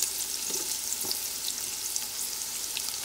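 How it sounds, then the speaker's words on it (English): Red onion hitting a pan of frying carrots, a bright steady sizzle at moderate volume with a couple of soft stirring knocks, nobody talking. "I am gonna add my onion"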